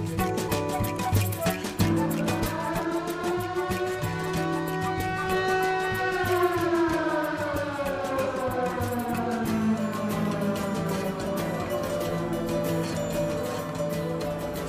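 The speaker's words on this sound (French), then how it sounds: "Une fois par mois, on fait sonner cette sirène-là, qui rappelle évidemment la Deuxième Guerre mondiale." A civil defense siren sounds its monthly test in a Burgundy town near the Palace of the Dukes, with a loud sustained wail that rises and falls in pitch and runs for the whole stretch.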